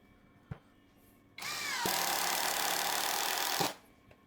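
A MIYOTA impact wrench with a size 14 socket drives a long 17 cm roofing bolt into wood. After a faint tap, a loud, steady whirring hammer runs for about two seconds, close up, then stops abruptly.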